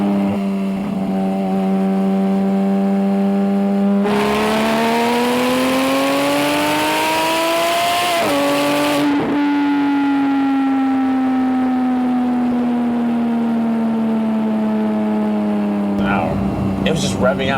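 A Porsche GT3 engine climbs through a long, loud rev while driving, its rising tone breaking at a gear change and then settling into a steady drone before another rev at the end.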